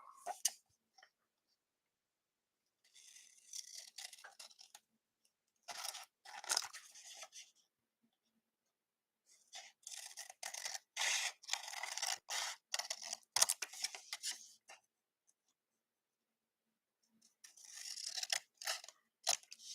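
Large scissors snip in bursts of sharp crisp cuts, separated by quiet pauses, close and alone with no talking.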